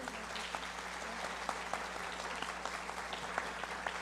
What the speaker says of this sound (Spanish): Démosle un caluroso aplauso y bienvenida.